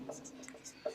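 Writing during a soil chemistry lesson, with faint scratchy pen or chalk strokes in short bursts beside soft background tone, close and quiet.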